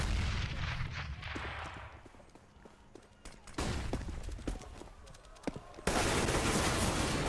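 Rapid rifle and pistol gunfire crackles in Counter-Strike on the Cobble map, with bursts of sharp shots, short lulls, and a loud sustained barrage near the end, partly under commentator voices.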